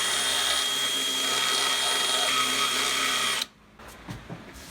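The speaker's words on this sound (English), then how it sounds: "to chisel out some wiggle room." A tool works out room for faucet handles in an upcycled bathroom vanity, a loud, steady buzzing grind for about three seconds that stops abruptly, followed by a few faint knocks.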